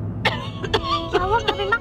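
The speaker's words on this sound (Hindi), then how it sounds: "बहुत खांसी आ रही है उन्हें" A woman coughs in several short harsh bursts, close and fairly loud, over a low room hum and faint background sounds in a TV drama household scene.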